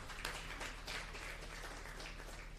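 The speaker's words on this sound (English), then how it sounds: "A round of applause, please." Applause from an audience at a government youth event, soft and distant, a thin patter of clapping that holds steadily with a low hum beneath.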